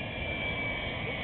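A large airplane engine at an airport gives off a steady, even roar, a continuous broadband rumble with a faint high whine held throughout and no voices over it.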